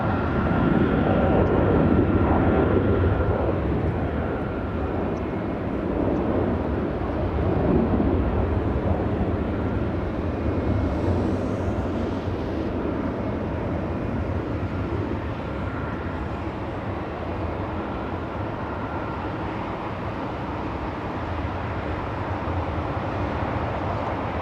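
A Philippine Airlines airliner at LAX, bound for Manila: a loud, continuous jet-engine roar holds steady across the whole stretch with no voices.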